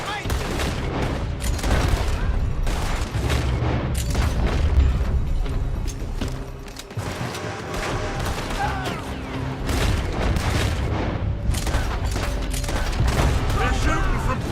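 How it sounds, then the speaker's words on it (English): Gunfire in Red Dead Redemption 2 as enemies shoot from a building, with repeated loud shots and booming blasts in rapid, irregular bursts throughout, layered with scattered impacts and mechanical clatter. "They're shooting from the building!"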